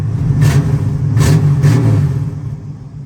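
Engine of a 1978 Ford Fairmont wagon fitted with headers revs loudly and close, a deep steady rumble with three sharp throttle blips before settling back.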